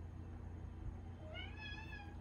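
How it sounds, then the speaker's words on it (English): A cat lets out a short meow near the end, faint and slightly distant over a low background hum, with no one speaking. "Do you hear my cat talking?"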